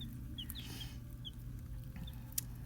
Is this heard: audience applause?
no